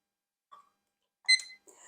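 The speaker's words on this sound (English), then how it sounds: "So again, I use a digital timer." A digital kitchen timer gives a few short electronic beeps while tea steeps, quiet and clipped, separated by silence, with no one speaking.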